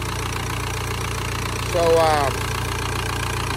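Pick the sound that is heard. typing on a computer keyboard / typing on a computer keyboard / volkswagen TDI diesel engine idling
volkswagen TDI diesel engine idling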